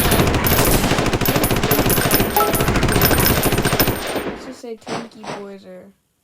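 Rapid, continuous minigun fire from a video game combat scene, a dense loud mechanical rattle for about four seconds before it cuts off into a few short metallic clanks and impacts.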